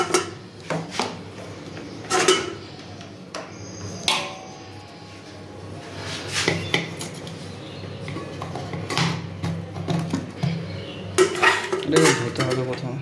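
A pot being washed: metal clanks, scrapes and clatters of cookware and utensils close by, with rubbing and splashing between the hits and a burst of busier clattering near the end.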